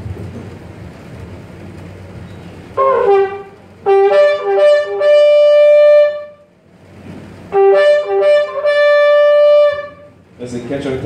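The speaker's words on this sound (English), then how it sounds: "another call called shivering, which is three blasts from a lower tone to a higher tone" Three-note shofar shevarim call: two groups of loud, sustained horn blasts, each stepping from a lower to a higher tone, separated by a brief pause, alone with no talk.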